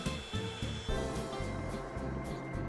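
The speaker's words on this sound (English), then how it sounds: "I'm using a handheld mixer here." A handheld electric mixer whirs steadily while beating heavy whipping cream to stiff peaks in a medium bowl for tiramisu, its motor pitch dipping and surging in a rhythmic pulse close by.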